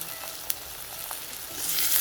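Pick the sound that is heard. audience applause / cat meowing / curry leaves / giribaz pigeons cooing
curry leaves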